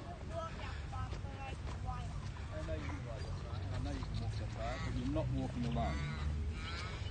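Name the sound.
seagulls calling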